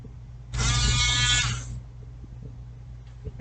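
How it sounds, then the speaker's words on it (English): Dremel rotary tool used for carving ornaments, running in a single buzzing high-pitched whine for just over a second before winding down, over a low steady background hum. "with those carvings, I've got my Dremel tool here"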